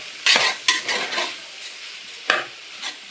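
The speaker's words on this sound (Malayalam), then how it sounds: "എന്നിട്ട് ഈ അരി ഇട്ടിട്ട് നന്നായിട്ട് ഇളക്കുക." Rice is stirred into masala in a pot for biryani, with a few sharp scraping clanks of a spoon over a soft, fading sizzle, close and without talk.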